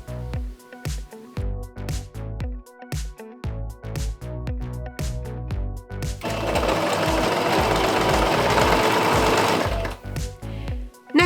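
A sewing machine stitching the front seams of a dress, first in short stop-start bursts of rhythmic needle thumps, then a longer steady run at speed, loud and close with no talking.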